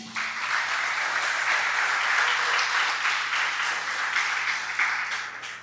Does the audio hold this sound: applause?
yes